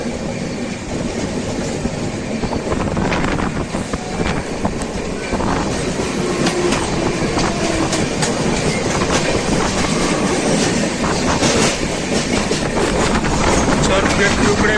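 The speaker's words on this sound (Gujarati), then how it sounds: "આ બોમ્બેની લોકલ ટ્રેન છે" A Mumbai local train running from Churchgate rumbles and rattles steadily with a rhythmic clickety-clack of the wagons and rushing wind noise, loud and continuous throughout.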